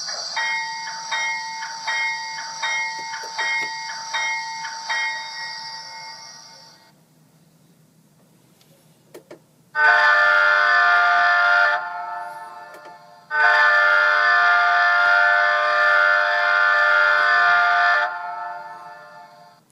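Several video game train horn blasts, some carrying a Doppler pitch shift: a run of short repeated honks first, then two long sustained loud horn blasts after a brief lull, with no talking.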